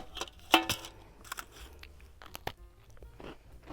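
Crisp crunching bites into cookies, then close chewing with scattered crackles, one sharp bite standing out early over quiet room tone.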